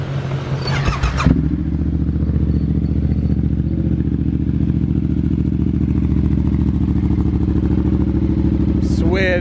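Motorcycle engine running close by, a loud steady idle rumble that holds throughout after a brief burst of clatter at the start.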